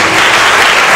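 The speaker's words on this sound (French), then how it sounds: "Mesdames et messieurs, on applaudit Madame Bosso Siana." Loud, dense applause fills the hall for a law graduate introduced at a school debate, a brief close wash of many clapping hands with no talk.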